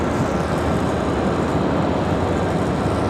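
A Frontier Airlines A320 jet lands on runway 23 right at Raleigh Durham airport, a broad steady roar of engine and rushing air, loud and continuous throughout.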